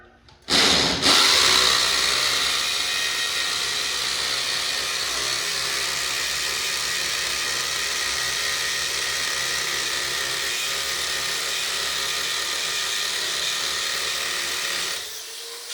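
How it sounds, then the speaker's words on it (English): A power drill runs steadily for about fourteen seconds, boring holes to mount a homemade pull-up bar; a loud continuous whine starts abruptly and then cuts off, with no talking. "So now we're gonna drill holes"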